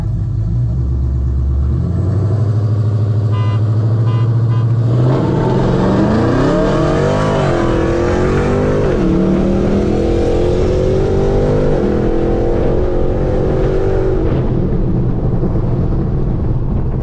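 A tuned E85 Dodge Charger Scat Pack launches in a street race, idling low before its engine roars up through rising revs and gear shifts, loud and close, with no talk.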